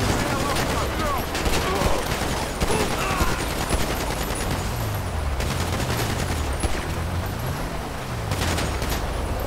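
Rapid gunfire in the video game GTA 5 crackles in dense, continuous bursts throughout, loud and close, with game music and occasional voices mixed underneath.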